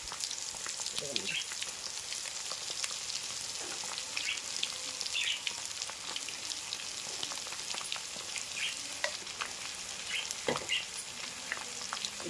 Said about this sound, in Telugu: అల్లం చిన్నపాయ పేస్ట్ కూడా బాగా వేగిందండి